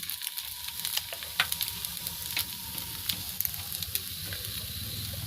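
A dosa sizzling in light oil on a hot pan, with steady bubbling fry and scattered crisp pops and ticks, close and alone.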